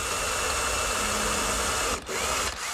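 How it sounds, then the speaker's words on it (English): A power drill pre-drills a small hole into a wooden block and tray, whirring continuously, loud and close, pausing briefly twice near the end before starting again. "Pre-drill a little hole."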